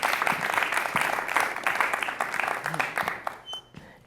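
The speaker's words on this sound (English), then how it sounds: "Let's give him a round of applause." An audience at a student recital applauds a performer coming up to the stage, steady crowd clapping that fades toward the end, with a faint voice near the close.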